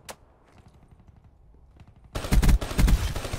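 Bursts of automatic gunfire from Black Ops 3 erupt after a quiet stretch, loud rapid volleys in two clusters near the end.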